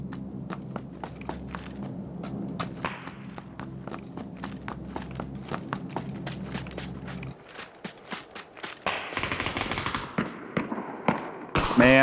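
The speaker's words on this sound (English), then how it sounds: "Trying to snipe people with my red dot sight. Well, my holographic sight with my light machine gun." A light machine gun fired in PUBG, a fast train of sharp rapid shots rattling steadily for several seconds, then scattered louder cracks and bursts with a voice speaking over parts.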